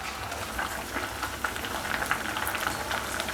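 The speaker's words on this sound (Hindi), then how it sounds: "तो अल्हम्दुलिल्लाह चाय में उबाल आना शुरू हो गया है।" Pink Kashmiri tea (gulabi chai) simmers at a rolling boil in a covered pot, giving a steady faint bubbling and fizzing with small irregular pops and no one talking.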